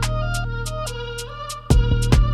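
An 808 bass line with a kick drum pattern in a drill-type beat made in Studio One plays loud and close, with sustained booming bass notes and rhythmic hits that pump the mix.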